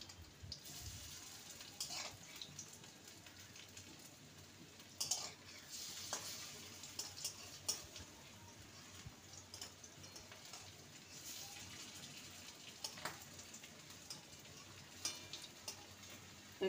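Potato pakoras fry in hot oil, a soft continuous sizzle with scattered clinks and scrapes as they are turned over, close and fairly quiet throughout.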